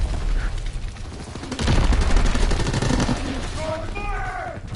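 Shotgun blasts from Call of Duty: WWII gameplay, a dense burst of loud gunfire layered with game effects, while a voice talks over part of the action.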